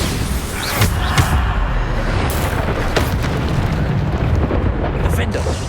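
Bombarda blasting spell going off in the video game Hogwarts Legacy: a dense, booming explosion rumble that stays loud throughout, with repeated bursts layered over continuous roaring noise.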